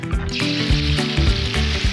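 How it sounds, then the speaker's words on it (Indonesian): Steady, loud sizzling of ground chili paste (sambal) frying in a hot pan, with dull scraping thuds from stirring throughout. "Lalu kakak menggoreng sambal yang telah diulek hingga halus."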